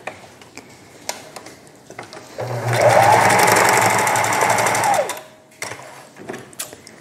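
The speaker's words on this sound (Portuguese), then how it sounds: "Aqui eu vou também passar a costurinha prendendo" A sewing machine stitches a seam to hold a fabric mask in place, running steadily for about two seconds at close range with a rapid mechanical whir, stopping and starting between short pauses.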